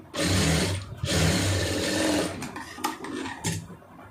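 A sewing machine stitches an armhole seam, running steadily and close for about two seconds, with a brief break, then slowing into a few shorter uneven bursts.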